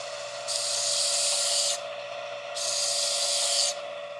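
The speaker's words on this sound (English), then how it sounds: "Get on this belt grinder." Belt grinder smoothing the side of a pitted knife blade: a steady motor hum runs throughout while two loud, bright abrasive passes of about a second each rasp against the steel, separated by a short gap, with no talking.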